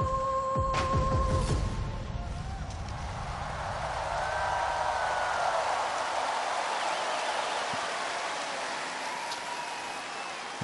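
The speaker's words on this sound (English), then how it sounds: "looking outside in, the rain has eased off a little" Steady rain hisses across an outdoor stadium during the Nanjing 2014 Youth Olympic Games closing ceremony, a constant broad wash of falling water with faint tones and crowd ambience beneath it.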